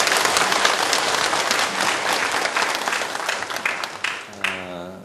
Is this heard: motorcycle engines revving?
no